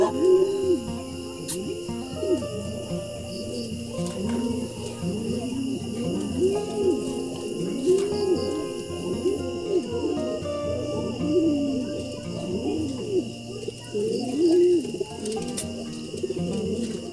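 Pigeons kept as breeders coo steadily in soft, overlapping, repeating calls close by, with faint insect chirping and a constant high hum behind them.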